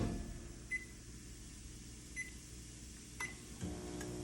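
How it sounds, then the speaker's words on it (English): Microwave oven running to soften naan bread, a steady low hum with a few faint beeps and clicks, a louder click near the end. "So to soften the bread, we're gonna go 30 seconds in the microwave."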